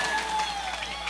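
Crowd applause at a live comedy show in a village setting, moderate steady clapping with faint voices mixed in.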